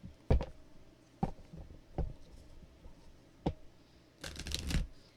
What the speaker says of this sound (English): I will be shuffling as we go